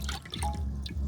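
Prepared yanang leaf juice is poured into a pot of bamboo shoot curry, giving close, small liquid splashes and trickling with no talk.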